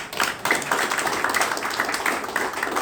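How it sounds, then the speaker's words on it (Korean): Audience at a press conference gives a round of applause, a dense patter of many hands clapping steadily for a few seconds at moderate level. "여러분 박수 한번 보내주세요."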